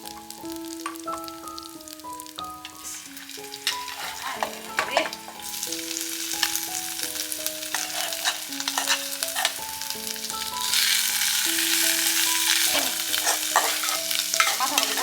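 Duck meat cooks in spices in a pot, with a steady sizzle and occasional stirring scrapes heard close, under a melodic music track.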